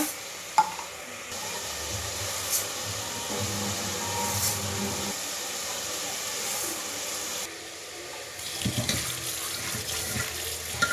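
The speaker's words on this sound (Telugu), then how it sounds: "ఫ్రై అయిన తర్వాత నేను ఎసరులాగా వాటర్ పోసుకుంటాను అనమాట" Water pours into a pan for vegetable biryani, a steady splashing, tap-like flow running throughout at moderate loudness, with faint kitchen clatter and no talking.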